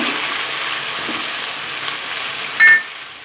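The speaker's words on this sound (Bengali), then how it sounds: "এখন আমার এই যে রসুনটা হয়ে গেছে আমি চিকেনগুলো দিয়ে দিব" Marinated chicken is added to garlic frying in a pan, producing a steady close sizzle and hiss that runs throughout, ending with a brief louder burst.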